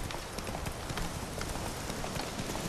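In-game hoofbeats from Roach, the horse in The Witcher 3: Wild Hunt, running at a steady rapid clip-clop over a continuous background.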